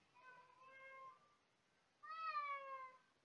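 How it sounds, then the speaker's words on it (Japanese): A cat gives two clear, tonal meows separated by a short pause, the second louder and rising before it falls, heard close up in an otherwise quiet room with no voices. "猫ちゃんが泣いてる。"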